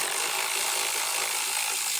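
A ratchet backing out T15 Torx screws on a Chevrolet Silverado 1500 clicks in a rapid, steady buzz of pawl ticks, close and fairly loud, with no voices.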